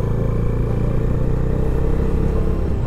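A Bajaj Dominar 250 BS6 motorcycle engine rumbles steadily while being ridden on a test ride in Nepal, a deep continuous drone with wind-like buffeting, close and loud with no talk.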